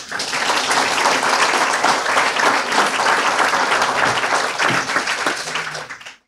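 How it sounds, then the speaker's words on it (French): A hall full of people at a Collège Clarétain foundation campaign event breaks into sustained, loud applause that holds steady for several seconds before cutting off abruptly. "on peut même les applaudir à nouveau"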